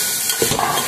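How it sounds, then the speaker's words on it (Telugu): Turmeric being stirred into a hot, sizzling pan, a steady close frying hiss with soft scraping of the stirring utensil against the pan. "పసుపు ఓకేనా వేసేసి మంచిగా తిప్పాలి"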